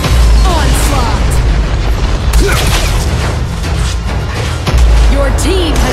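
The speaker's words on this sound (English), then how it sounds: "Your team has destroyed a tower." Loud booming blasts as a tower is destroyed in the mobile battle arena game Liên Quân, deep explosions layered with game effects and an announcer-style voice over the action.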